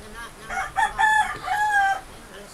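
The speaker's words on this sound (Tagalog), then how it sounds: "Mga manok." A rooster crows in a long, drawn-out call, with clucking from chickens nearby against a faint background murmur, amid typhoon flooding in Nangka, Marikina.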